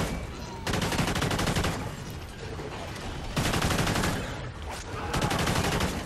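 AK-12 assault rifle fire in Call of Duty: Ghosts Extinction mode, loud close automatic bursts repeating with short gaps between them throughout.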